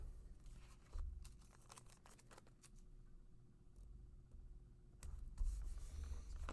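Pixie tape being handled and torn at a craft desk for card making, a series of soft crinkling rips and rustles, close and quiet with brief pauses between bursts, no speech.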